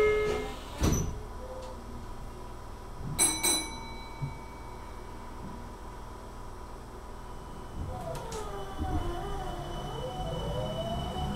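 Doors of a Meitetsu 1700 series train at a station slide shut with a couple of sharp clunks and chimes, then the train hums as it starts to move.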